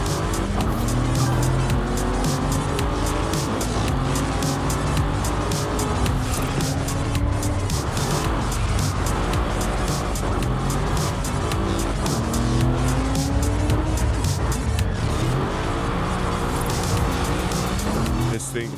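Tires squeal and slide under a loud, steady engine roar in Forza Horizon 5 racing on tires without off-road tread, with long drawn-out screeches over continuous motor noise and game music throughout.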